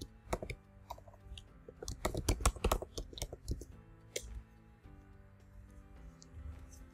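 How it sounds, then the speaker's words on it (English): Fingers tap out a command on a computer keyboard, a close, quiet run of crisp key clicks in bursts with short pauses and no talking. "Okay, I typed the wrong command."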